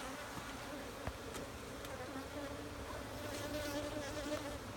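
Honey bees buzz constantly around an open hive being split, a dense, steady drone that fills the scene with faint intermittent clicks and knocks.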